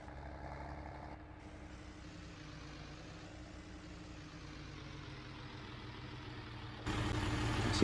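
An International tractor engine runs at a steady low rumble while it is driven up onto a trailer, with the sound growing louder toward the end and no talking.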